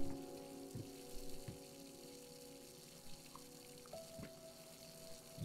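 A bathroom tap running in the horror game Layers of Fear, a faint steady gush of water under a low tonal drone, with no voices.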